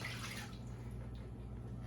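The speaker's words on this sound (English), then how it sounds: "We are going to add 1 cup of water to the pot." One cup of water is poured into a cooking pot for homemade coffee creamer, making a quiet, steady splashing trickle heard alone for a couple of seconds.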